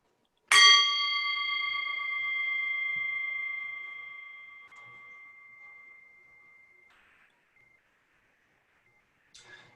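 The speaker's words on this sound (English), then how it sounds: "We will begin our service by ringing a bell to bring us together." A single bell struck to open a Unitarian Universalist worship service rings out with a sharp attack, then a clear sustained tone that slowly decays over several seconds, followed by a faint tap near the end.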